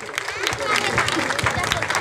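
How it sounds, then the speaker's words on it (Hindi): A crowd at a children's DJ dance competition during Saraswati Puja claps in brief, scattered applause, fairly close, mixed with talking voices. "एक बार जोरदार ताली बजाना चाहेंगे।"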